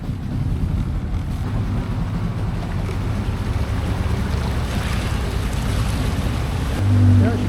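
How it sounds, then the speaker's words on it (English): Steady low rumble of a boat motoring across a fast-flowing river in Colombia, with water rush and wind noise throughout, continuous and close, no talking. "This is the boat that we're going to be crossing the river on."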